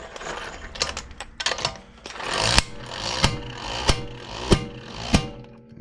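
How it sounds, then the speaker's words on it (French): Bolts are tightened with a socket on a VEVOR hydraulic jack, starting with scraping and rattling and then settling into six sharp, evenly spaced metallic clicks close up. "Et ça serre. On voit la douille qui tourne."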